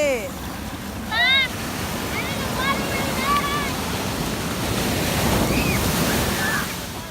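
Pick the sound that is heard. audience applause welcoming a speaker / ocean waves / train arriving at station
ocean waves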